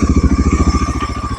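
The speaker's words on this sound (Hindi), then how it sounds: "एक बार RPM स्टार्ट करके बाइक बंद हो जाएगी।" A Bajaj Pulsar NS400 motorcycle engine runs loud and close, with a steady, fast thumping pulse at idle.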